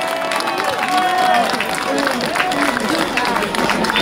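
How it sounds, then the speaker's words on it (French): Crowd applause at a race prize ceremony for the first veteran woman runner, steady clapping under a loudspeaker voice with crowd noise around it. "on peut l'applaudir"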